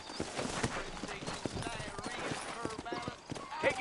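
Horse hooves clip-clop at a close, busy rhythm in the Red Dead Redemption video game, with a voice speaking over the hoofbeats.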